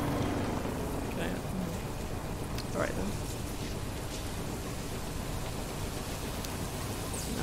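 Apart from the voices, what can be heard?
rain in the video game Death Stranding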